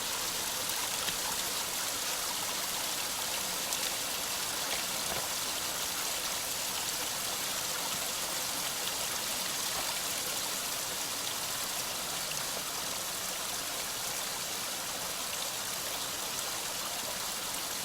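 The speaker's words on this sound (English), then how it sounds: "a little bit of runoff from there, runoff from up there." Runoff water from higher ground flows as a small stream in the Cranberry Wilderness, a steady unbroken rushing wash that stays even and fairly loud for the whole stretch, with no voices.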